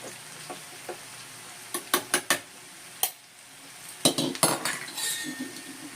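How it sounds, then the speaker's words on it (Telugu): Cooked dal being mashed with a small wooden churner in a kitchen pot, giving a series of sharp knocks and clinks that grow busier toward the end, with no talking. "కవ్వంతో ఇట్లా మనం ఏంటంటే చేసుకుంటే పప్పు మెత్తగా అయిపోతుంది"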